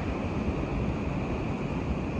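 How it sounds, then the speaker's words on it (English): Ocean surf of a heavy north swell rolls steadily around a struggling yacht, a dense continuous wash of water mixed with wind rumbling across the microphone, with no voices. "Look at those waves."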